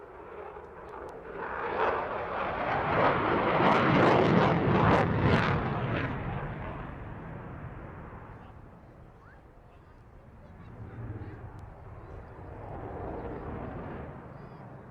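RAF Eurofighter Typhoon jet with two Eurojet EJ200 engines roaring loudly overhead at an airshow, a broad swelling rumble that peaks, eases and surges again, with crowd talk faintly beneath.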